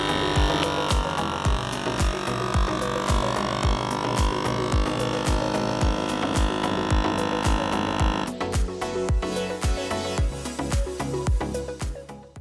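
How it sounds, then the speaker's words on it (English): A vacuum sealer pumps steadily in a fast, even throbbing hum while drawing air from a bag of meatballs, then the tone changes and turns rougher near the end as it seals, close and continuous with no talk. "I'm going to select the button that allows it to vacuum and seal"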